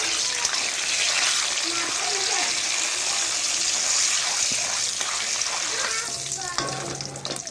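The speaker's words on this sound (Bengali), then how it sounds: "তেলটা গরম হলেই দিয়ে দেবো কালো জিরে ফোড়নের জন্য। এটিকে ভালো করে ভেজে নেব।" Black cumin (kalo jeera) seeds tempering in hot oil, a loud close sizzle with crackles and stirring sounds that eases slightly near the end; no speech.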